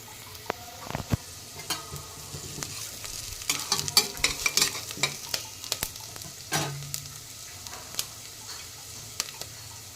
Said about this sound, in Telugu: ఆనియన్స్ కొంచెం బ్రౌన్ కలర్లోకి రావాలండి. బ్రౌన్ కలర్ వచ్చేంత వరకు ఒక 5 మినిట్స్ తిప్పాలి.